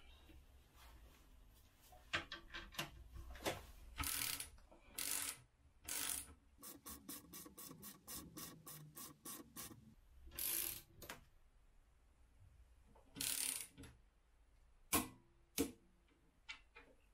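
Torque wrench ratcheting a big wheel motorcycle swing arm bolt to 50 Nm, close irregular runs of sharp clicks and ticks with short pauses, plus a few louder rustling bursts of handling.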